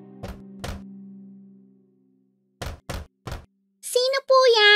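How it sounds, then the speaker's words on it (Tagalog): Knocking on a wooden door in a Tagalog children's story about a mother goat and her kids: two hollow knocks, a pause, then three more, with a voice answering afterward. "Pagkatapos ay lumapit siya sa bahay at kumatok sa pinto."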